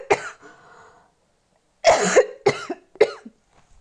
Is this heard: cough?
yes